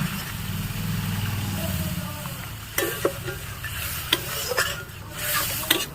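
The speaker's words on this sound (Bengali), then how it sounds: "মশলা থেকে তেল ছেড়ে দিয়েছে এবার আমি পোস্তটা দিয়ে দেবো" Poppy seed paste goes into a spice mix frying in oil for a soybean malai curry, with a soft sizzle and a spoon scraping and stirring in the pan, a few sharper clinks near the end, moderately quiet.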